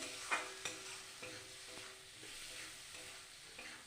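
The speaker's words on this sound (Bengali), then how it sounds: "এবার দেখো, ভাজা হয়ে গেছে মশলাটা," Spice paste for amudi fish curry fries in a pan, a steady close sizzle with spatula scrapes and a few light knocks against the pan, with no talk.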